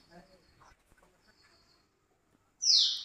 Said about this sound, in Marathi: आणि आता ऐकलं असेल तुम्ही हा चिमणीचा आवाज.